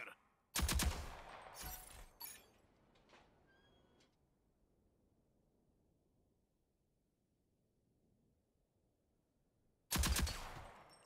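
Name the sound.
gunfire exchanged with turrets in Rogue Company video game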